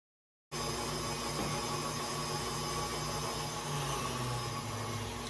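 Electric mixer beating eggs and sugar at high speed for a lemon poppy seed cake, a steady whirring motor hum that starts abruptly and runs evenly nearby, with no talking.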